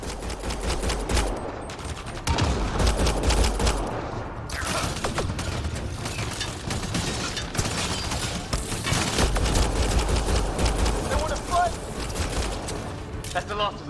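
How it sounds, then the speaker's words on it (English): Gunfire in Mass Effect Andromeda crackles in sharp, repeated shots and short automatic bursts with occasional heavier booms, mixed under voices talking during the firefight. "They shot him!"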